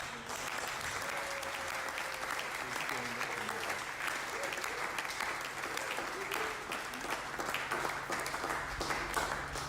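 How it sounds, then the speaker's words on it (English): An audience at a military interfaith lecture gives sustained applause, a continuous dense wash of many hands clapping at steady loudness throughout, heard from a moderate distance with faint voices beneath. "Shall we give another resounding round of applause?"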